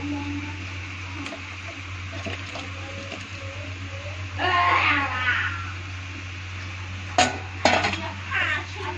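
Eggs are dropped into a pot of boiling curry and stirred, giving several metallic clinks and scrapes of spoon against pot over a low steady hum, with a burst of bubbling and splashing midway.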